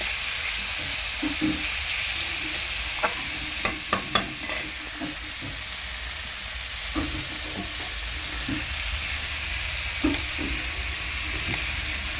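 Fish curry masala with turmeric and chilli sizzles and fries in a pan, with a steady close hiss and scattered scraping stir strokes and clinks over the constant frying.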